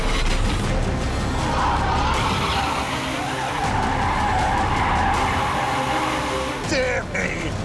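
Rimac electric hypercar drifting, tyres skidding and squealing continuously at close range for several seconds, with a brief voice near the end.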